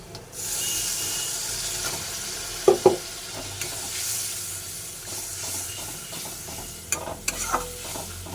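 Mustard paste going into a hot frying pan with onion, ginger and garlic, then stirred: a steady close sizzle with two sharp spoon knocks early and a few scraping clinks near the end.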